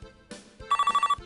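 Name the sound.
telephone ringing in a PC learning game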